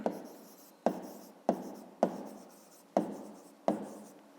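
A pen writes out a perimeter solution for a fifth-grade math exercise: six scratchy strokes, each starting with a sharp onset and fading, spaced roughly half a second to a second apart.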